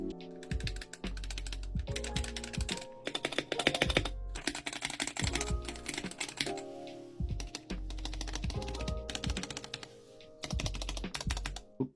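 Keys clack on a lubed GamaKay K61 60% hotswap mechanical keyboard in close, quiet bursts of rapid typing, with short pauses and occasional heavier thocks from the stabilized keys.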